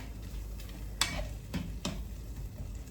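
Peppers cook in a pan under a low, steady sizzle, with a few faint scraping stirs from a utensil against the pan.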